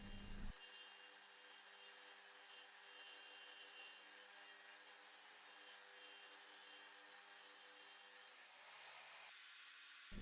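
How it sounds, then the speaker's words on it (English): Saw cutting wooden side pieces for louver slots in folding door panels, a steady, loud, even rasp held for about eight seconds, then a brief change in tone near the end, close and with no talking. "Here I'm just cutting these side pieces where the slots will go in for the louvers to fit into."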